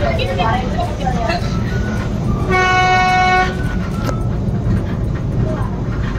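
A rumbling funicular train ride up to the Jivdani temple, with rattling wheels and steady motion noise, a tonal horn-like blast sounding briefly midway, and people chattering throughout.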